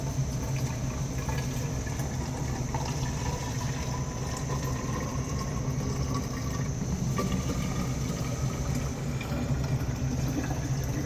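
Mixed calf milk replacer poured from a container into a feeding bucket on a livestock farm. A continuous liquid pour runs steadily for several seconds over a constant low engine or pump hum.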